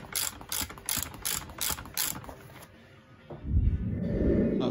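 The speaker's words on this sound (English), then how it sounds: "get your ratchet on. Nip all three back up." A hand ratchet clicks in quick repeated bursts while tightening bolts on a VW T5 Transporter seat bracket, close and crisp, followed by a duller knock and low rustling handling noise.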